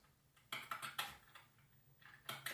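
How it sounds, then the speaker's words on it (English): Keyboard typing sound effect setting an office scene: quiet clusters of close key clicks in uneven bursts with short pauses between them. "the keyboard typing really nails down that we're in an office space"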